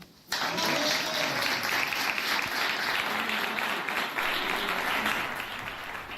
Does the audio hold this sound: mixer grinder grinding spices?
no